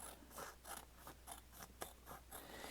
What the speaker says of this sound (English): we'll just cut it with our crooked scissors until it does fit